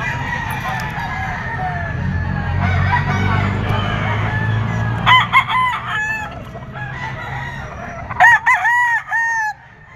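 Roosters at a gamefowl farm crowing and clucking nearby, several loud drawn-out crows in the second half over a low background rumble and scattered clucks.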